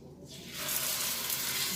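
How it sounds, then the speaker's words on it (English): Chuck tender roast hits about 2 tablespoons of hot oil and a bright sizzle erupts, quickly swelling into a steady, close crackling hiss. "Hear that sizzle"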